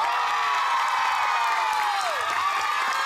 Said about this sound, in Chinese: 热烈掌声欢迎我们男主角萧敬腾